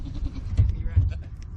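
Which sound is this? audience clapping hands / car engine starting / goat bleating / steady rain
goat bleating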